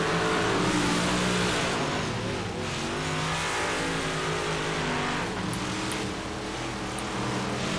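Big block modified race cars roar loudly around the Williams Grove dirt track in iRacing, engines droning and surging continuously as cars power down the backstretch.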